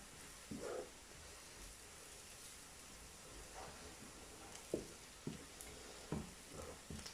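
Onion and mint sautéing in a pan for a Turkish Miraç soup make a quiet, even sizzle broken by several brief scraping and stirring knocks, with no one talking.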